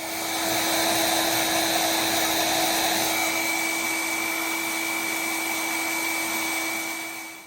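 A milling machine runs steadily while flattening a cut part for a lathe steady rest, giving a constant, even whine with a shrill tone that holds throughout and does not change.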